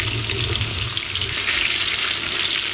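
Food stirred in a pot while it sizzles and fries steadily, a continuous close bubbling hiss with faint scraping, and no talking.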